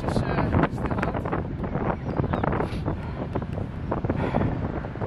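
Gusty wind buffeting the microphone outdoors, a dense low rumble with irregular bursts throughout.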